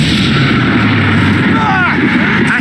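A Crucio spell blast in the Hogwarts Legacy video game, a loud continuous booming burst with a crackling, sweeping tail, dense and heavy throughout.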